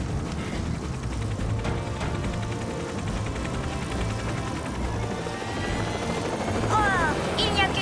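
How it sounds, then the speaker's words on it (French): A cartoon helicopter flies along with a steady rotor drone, loud and continuous through the whole stretch, ending in a few whistling sweeps. "gâcher notre balade en hélicoptère"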